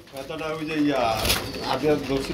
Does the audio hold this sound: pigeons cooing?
yes